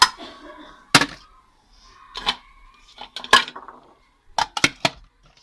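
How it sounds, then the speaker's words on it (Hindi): Metal dishes and pots are put away in a home kitchen on a winter morning, with sharp, close clanks and clatters arriving in scattered bursts, some in quick runs of two or three, between quiet gaps. "रात को निकाले थे बर्तन, अब मैंने कहा कि इनको लगा दूँ, क्योंकि ये बर्तन सारे इधर ही लगे रहते हैं।"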